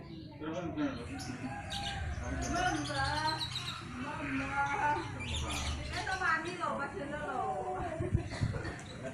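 Canaries chirp and twitter in quick, varied, high-pitched phrases, close and fairly continuous, while people talk over them.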